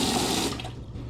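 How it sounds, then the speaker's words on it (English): Water from an outdoor faucet runs through a garden hose into a trash can, a steady rushing splash that cuts off abruptly and leaves a faint trickle. "put the water hose in there like that, hold it, turn the faucet on"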